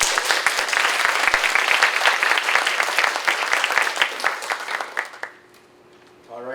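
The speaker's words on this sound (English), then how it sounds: "Again, let's give them a round of applause." Applause from a live audience honoring eight research competition finalists, a steady loud wash of many hands clapping that fades out near the end.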